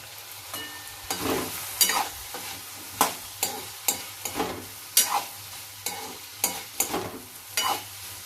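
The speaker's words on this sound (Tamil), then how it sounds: "இலுப்பைச்சட்டியை திறந்துட்டு கிளறி விட போறேன்" Carrot poriyal is stirred in an iluppai pan, a close series of regular scraping strokes against the pan with a soft sizzle underneath, roughly one stroke per half second.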